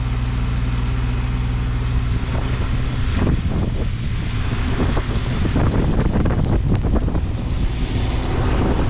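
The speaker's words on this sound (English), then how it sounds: "That's a lot of wind." Strong wind roars steadily outdoors during a snowstorm, buffeting the microphone with loud, continuous rumble and gusty bursts throughout.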